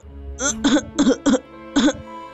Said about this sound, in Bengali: বুঝতে পারছি না হঠাৎ এত কাশি পাচ্ছে কেন